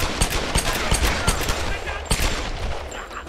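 Rapid machine gun fire in Tomb Raider, sharp repeated bursts of shots close and loud, with a stutter of rounds across the whole stretch and a brief voice near the end.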